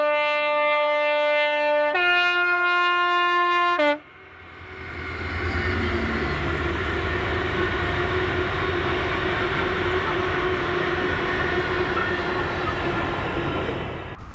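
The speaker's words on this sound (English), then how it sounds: "Same day, same train now in the Ckyde Valley as the train heads south just before Crawford." A train heading south through the Clyde Valley near Crawford, Scotland, passes with a steady broadband rumble and rail noise that swells after a sharp start of tonal horn-like notes, then holds loud and close for about ten seconds.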